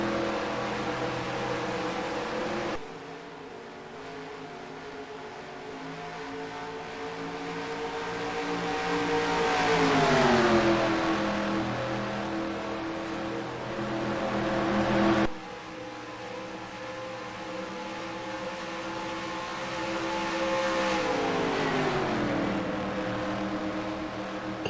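Race cars lapping at Charlotte Springs Speedway, engines droning and rising as they come near, then dropping away in pitch as they pass, twice over, with no voices.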